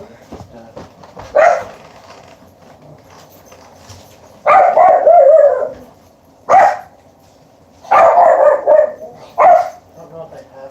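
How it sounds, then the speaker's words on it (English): A household dog barks loudly and close by in several bursts, some single and some quick runs of barks, with quieter background sound between them. "Our dog is here."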